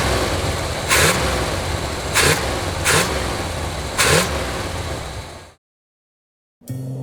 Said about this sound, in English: And now back to that snappy new engine.